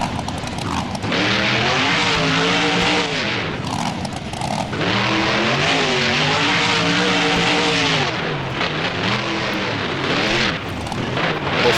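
A monster truck's engine in the BeamNG video game roars and revs hard in repeated rising and falling surges, loud and close, with brief drops between bursts during a freestyle run at Soldier Field.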